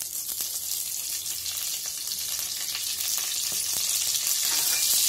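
Green chillies frying in hot oil in a pan while making Pongal, a steady close sizzle with faint stirring clicks, growing slightly louder toward the end, with no talking.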